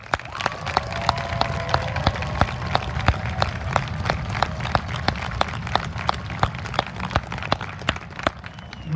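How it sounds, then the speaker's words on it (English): A graduation crowd gives faculty and staff a steady round of applause, with sharp rhythmic claps standing out over a broad wash of clapping for the full stretch. "and I mean thunderous, round of applause"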